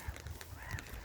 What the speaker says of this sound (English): We've got some ducks.